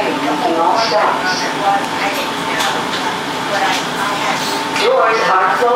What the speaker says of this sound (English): Doors are opening. 69th Street train making all stops.